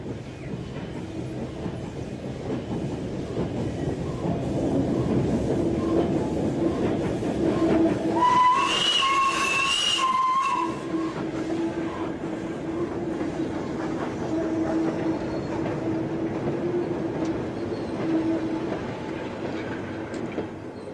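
A steam locomotive on the North Yorkshire Moors Railway rumbles steadily past with rhythmic chuffing and rail clatter, building louder midway with a brief whistle-like squeal, then continuing as it moves along.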